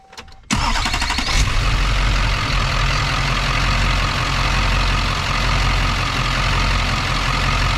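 A Chevrolet Kodiak truck's Duramax LLY diesel engine cranks and catches after a short quiet moment, then settles into a steady, loud, rumbling idle close by.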